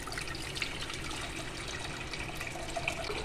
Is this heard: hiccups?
no